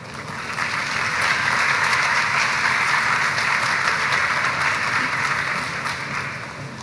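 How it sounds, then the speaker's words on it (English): An orientation audience for new undergraduate students breaks into sustained applause that swells, holds steady for several seconds, then begins to taper. "Can we get another round of applause for Dr."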